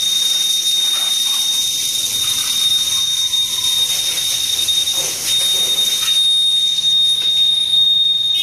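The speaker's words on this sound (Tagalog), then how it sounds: "Sensitive pala nito. May alarm. Ang ganda ng anti-theft niya." Anti-theft alarm on a secondhand motorcycle at a repo garage, sounding as a loud, steady high-pitched electronic tone that runs unbroken over constant hiss, with no talking.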